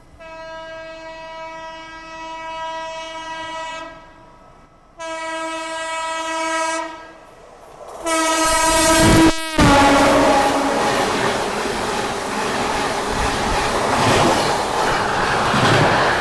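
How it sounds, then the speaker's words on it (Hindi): The Gondwana Express approaches on Indian rails to overtake, sounding a long multi-tone horn in several blasts, then roaring past close by with loud rumbling, wheel clatter and rushing wind. "फाइनली गोंडवाना एक्सप्रेस जो है वो आ रही है ओवरटेक करने के लिए हमें।"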